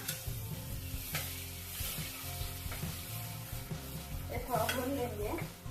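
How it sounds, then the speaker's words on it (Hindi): Crushed green chili and garlic paste frying in hot oil for kachori, a steady close sizzle and crackle with occasional stirring scrapes and clinks of a utensil against the pan. "तेल गरम हो गया है। इसमें हम डालेंगे क्रश की हुई हरी मिर्च और लहसुन की पेस्ट।"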